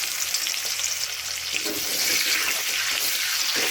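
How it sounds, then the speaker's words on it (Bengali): Chopped onions sizzle in hot oil with bay leaf, two large cardamoms, cinnamon and cloves for a chicken biryani, a steady close, bright frying hiss that swells slightly partway through, with no talking. "পেঁয়াজগুলো একটু ভাজা ভাজা করে নেব।"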